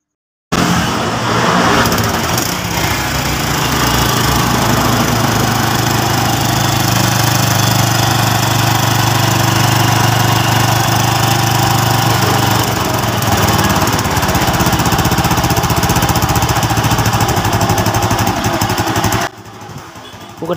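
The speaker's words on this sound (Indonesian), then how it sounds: "Sekarang langsung kita hidupin mesinnya." A Honda Revo motorcycle engine, freshly assembled and with a leaking, holed exhaust, starts and settles into a loud, steady idle that runs for nearly twenty seconds before cutting off abruptly near the end.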